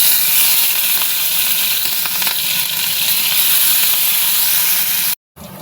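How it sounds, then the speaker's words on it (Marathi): Cumin seeds, finely chopped green chilli and a few curry leaves sizzling in hot oil, a loud steady hiss close by that cuts off abruptly near the end. "गरम झाले आणि छोटा चमचा भरून जिरे टाकून घेते, बारीक चिरलेली मिरची आणि थोडासा कढीपत्ता"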